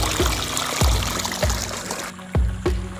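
Water tumbles over rocks beside a green field in the evening, a steady rushing wash broken by repeated low splashes at a regular pace, fairly close, with no voices.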